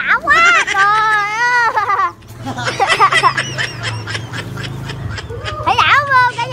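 Ducks at a holiday villa with a swimming pool give a run of loud, close quacks. Adults and children talk over and between the calls.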